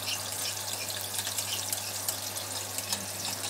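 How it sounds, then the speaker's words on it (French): Water is poured from a tap into a simmering tuna sauce, giving a continuous soft hiss and trickle at low volume with faint clinks, and no one speaks over it. "J'ajoute encore un tout petit peu d'eau."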